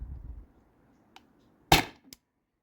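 A CO2-powered air gun fires a single sharp, loud shot near the listener, followed by a faint click.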